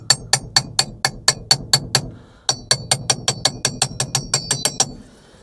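An impact socket taps a new steering wheel onto a 1965 Porsche, about twenty sharp, evenly spaced metallic knocks in two quick runs separated by a brief pause.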